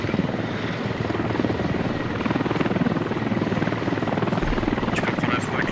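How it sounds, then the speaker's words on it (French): A military helicopter in the video game Squad thunders past overhead, a loud, steady rotor drone that fills the whole stretch while players' voices are faintly mixed in beneath it. "l'hélico il pète les oreilles"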